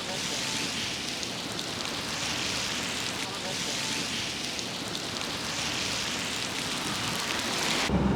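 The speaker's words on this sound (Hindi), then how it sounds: "बारिश बहुत तेज़ है" Heavy rain pours down steadily at an outdoor protest site near Rishikesh, India, in a loud, constant hiss that continues throughout without a break.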